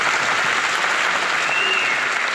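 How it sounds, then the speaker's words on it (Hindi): A seminar audience at a Hindi career counseling session claps in loud, dense, sustained applause that fills the room evenly from start to finish, with no voice over it. "यदि आप लोग थके नहीं तो इस बात पे और जोर से ताली बजाइए।"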